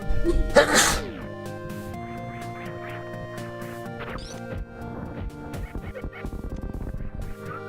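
A single sneeze near the start, loud and close, in a game-playing setting, followed by a steady bed of game music and sound effects with no talk.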